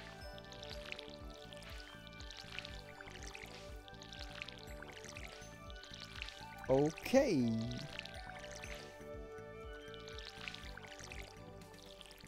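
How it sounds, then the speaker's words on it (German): A watering can splashes over crop fields in the Stardew Valley video game, repeated short pours in a steady rhythm under game music, with someone speaking briefly. "Gießen ja dreimal dasselbe Feld, dadurch wächst es nicht schneller. Sondern nur deine Gießkanne wird schneller leer."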